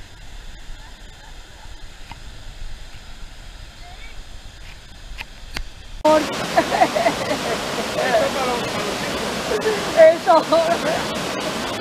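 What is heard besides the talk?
waterfall on the Bohigues river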